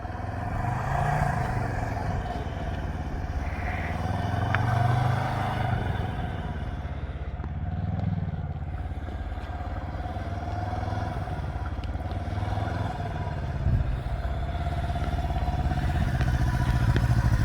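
A 2021 Can-Am Ryker three-wheeled motorcycle riding off, its engine rising and falling in repeated revving swells with a steady drone and occasional thumps, close by and fairly loud.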